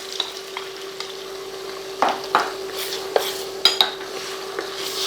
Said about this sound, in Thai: คนๆได้เข้ากันครับลากไปลากมาได้เลยครับ